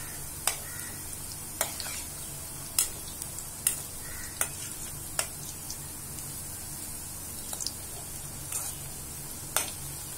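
Chilli sticks fry in oil on low heat, a soft continuous sizzle with sharp, irregular ticks and pops scattered every second or so. No one speaks.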